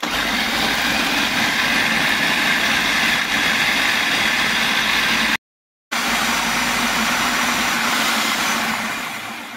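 A food chopper blends onion, pepper, anise seasoning and oil, a loud steady whirring motor drone that stops briefly mid-way and then restarts, close and without any talking.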